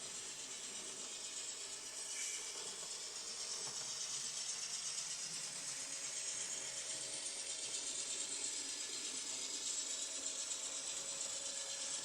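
A ScaleTrains N scale Dash 9 model locomotive runs at 40% throttle, giving a continuous faint mechanical whir with fine gear ticking, steady and unbroken with no voices.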